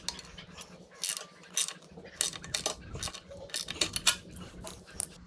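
A wrench tightens the head mounting bolt of a Tusk aluminum skid plate on a Yamaha TW200 motorcycle, giving close, rapid metallic ratcheting clicks in short bursts with faint clinking between them.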